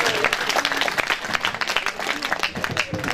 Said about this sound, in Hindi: तमाम मुअज्ज़ज़ मेहमानों से मुल्तमिस हूं कि तालियां बजाकर इनके हौसला अफजाई की जाए।